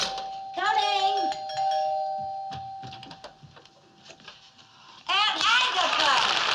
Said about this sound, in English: the doorbell, someone at the door.